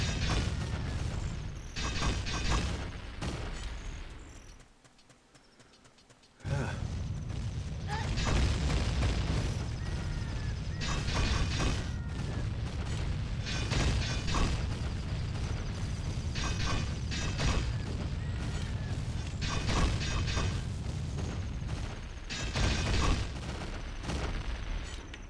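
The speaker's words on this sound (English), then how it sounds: "I am trying to survive an explosion" Continuous loud rumble of an explosion with falling pyroclastic debris in The Legend of Zelda: Ocarina of Time, dense mechanical crashing and booms throughout, briefly dropping away near the start before resuming at full strength.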